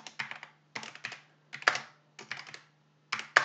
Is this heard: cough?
no